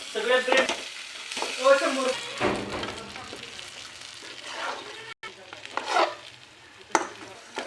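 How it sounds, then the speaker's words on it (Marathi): Masala of chilli powder and onion being stirred and sautéed in a pan for a rohu fish fry, a soft sizzle with scraping stirs running under a voice talking throughout. "परतून घेणार आहे मसाला"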